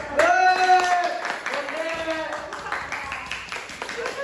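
Classroom applause for a student group after its presentation, scattered claps from students under overlapping voices and chatter, fairly close and continuing throughout.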